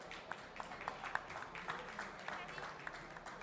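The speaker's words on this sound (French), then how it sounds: "On les applaudit tous les deux." Audience applause at a stage event at a dental forum as two guests are welcomed, a steady patter of clapping with sharper individual claps, fairly soft and continuous throughout.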